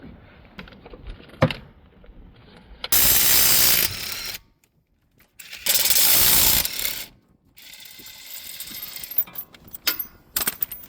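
Bursts of rapid ratcheting clicks loosening brake caliper bolts on a 2018 Kia Optima alternate with quieter clinks and taps of metal tools, the ratchet loud and close for a few seconds at a time.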